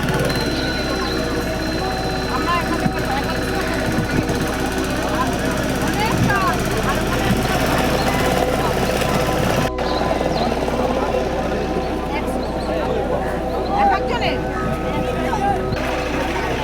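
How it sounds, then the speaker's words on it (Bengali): Motorboats running on the sea off Talsari beach give a continuous, fairly loud engine drone, while people talk over it throughout. "নৌকায় নৌকায় ওই চড়িটাতে নৌকো যাচ্ছে, বোটিংয়ে করে অনেকে যাচ্ছে।"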